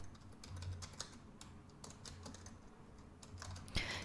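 Quick bursts of keystrokes on a computer keyboard while a name is typed into Autodesk Navisworks, soft clicky taps arriving in short irregular runs, close and quiet with no talk.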